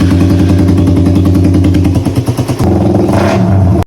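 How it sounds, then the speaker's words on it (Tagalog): Motorcycle with a new, very open aftermarket exhaust pipe, running close and loud with a steady throbbing idle, a few sharp revs in the middle, then settling back to a rough idle. "excited na din ako marinig tong tunog ng motor natin"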